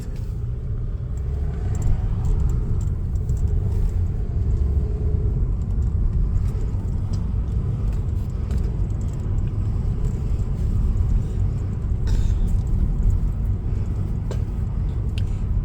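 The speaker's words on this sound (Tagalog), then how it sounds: "Yun po yung bus." A bus passes on the road in Catbalogan, Samar, its heavy low engine rumble steady and close for the whole stretch amid street noise, with no talking.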